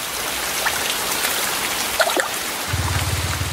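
Steady rain falls through the Atlantic Forest, a dense even patter of drops on leaves and ground, with a few faint chirps and a low pulsing sound near the end.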